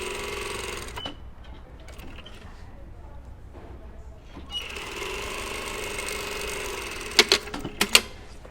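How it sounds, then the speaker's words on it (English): A sewing machine stitching a denim jacket pocket with regular thread, running in two stretches of steady mechanical whirring separated by a quieter pause, with a few sharp clicks near the end and a voice talking over parts. "so I'm just sewing this with the regular thread"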